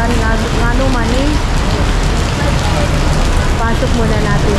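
Steady rain falls hard and continuously outdoors at a rest house, a dense hiss without breaks, with people talking over it.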